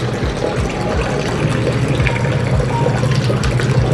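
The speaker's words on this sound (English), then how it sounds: "that's a lot of water straining out from this" Water gushing and draining steadily from a portable washing machine at home, a continuous close splashing flow with a low pump-like hum underneath and no talk.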